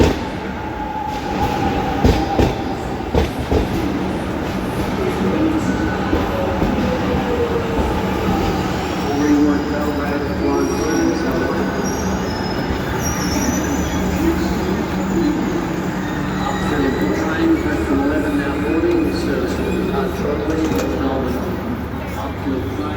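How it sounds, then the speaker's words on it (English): A passenger train rolls past near Seymour in northeast Victoria, its wheels rumbling and clattering on the rails with squeals of steel for over twenty seconds, while voices talk faintly in the background. "Here's our train."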